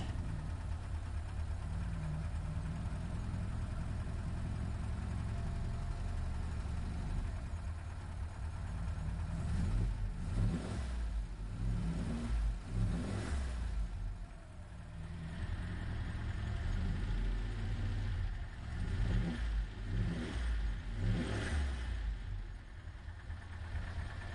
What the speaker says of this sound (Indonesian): biar jelas nih suara mesinnya bos